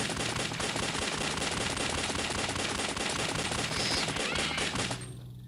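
Rapid, continuous automatic gunfire in the video game Alien Shooter rattles loudly for about five seconds in a dense burst, then cuts off abruptly into quiet.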